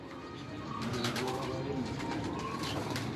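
Several pigeons coo softly in low, rolling murmurs against a steady background hum.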